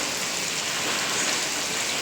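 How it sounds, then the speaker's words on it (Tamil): Heavy rain pours down over a residential area in a dense, steady hiss, loud and close, with no voices. "சரியான மழை பிடிச்சிருச்சு"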